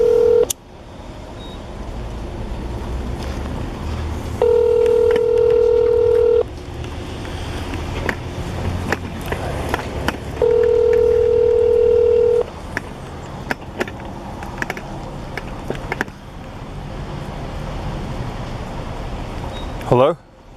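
Two bursts of steady telephone keypad dialing tones, each lasting about two seconds, sound over a phone line with background noise and some speech around them.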